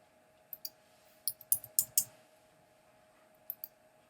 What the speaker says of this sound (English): I'm going to click right here